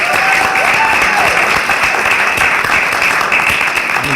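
An audience at a philanthropy event applauds the Prosperity Foundation grantees, dense sustained clapping filling the room with a few faint voices beneath.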